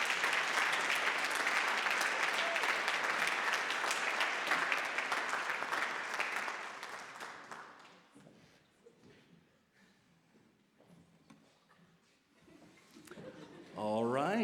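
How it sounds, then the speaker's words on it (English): Slow round of applause for a woman named Shannon walking up at a concert, loud and sustained for about eight seconds, then thinning into scattered claps and quieting before a voice returns at the end. "Let's give her a slow round of applause as she makes her way up."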